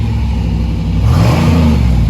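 A 1988 Chevy Silverado with a new dual exhaust revs up loudly and close by, its engine note climbing and swelling in one continuous rumble with no talking over it.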